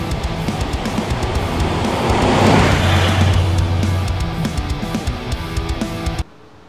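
A 1972 Lincoln Continental on the road, its engine and road noise forming a steady, fairly loud rumble that swells midway and continues until it cuts off abruptly near the end.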